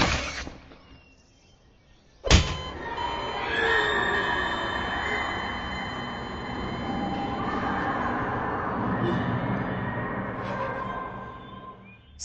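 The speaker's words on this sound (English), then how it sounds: "those two noises you heard are both sounds from Half-Life 2." Two eerie sound effects from the video game Half-Life 2: a faint opening noise, then a sudden loud crack that gives way to a long, dense, hissing and rumbling wash. Underneath are drifting high squeals and distant echoing tones.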